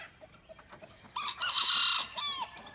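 A backyard chicken flock: soft scattered clucks, then a rooster crows loudly and close, one long drawn-out call with no talk over it.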